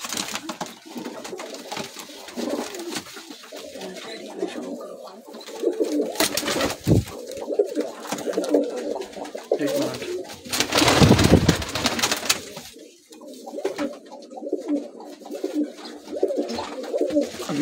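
Pigeons on a rooftop loft coo repeatedly in low, rolling calls that go on throughout, with a few louder bursts and flutters of noise mixed in.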